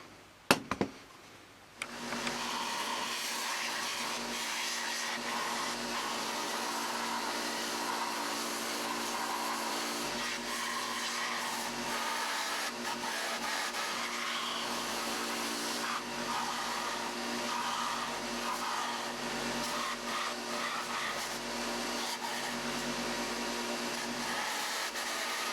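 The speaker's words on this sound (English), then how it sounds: "I'll put it on the sander and try to clean it up a little bit" Belt or disc sander grinding down the edges of a Kydex holster, a steady loud whirring roar that runs continuously after a brief start, with no talking.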